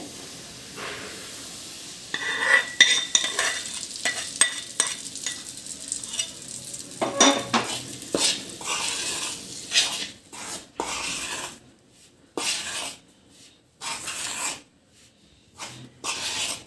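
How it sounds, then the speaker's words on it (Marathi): Warm ghee being worked into flour (maida) in a bowl, irregular scraping and stirring strokes in bursts with brief pauses, close and moderately loud. "व्यवस्थित मिक्स करून घेऊया आपण तूप आणि मैदा"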